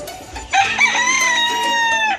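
On a farm in Zambales, a rooster lets out one loud, close crow, a drawn-out rising then falling call lasting well over a second, with faint farm background before it.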